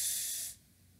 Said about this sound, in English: I'm going to do a quick torch around.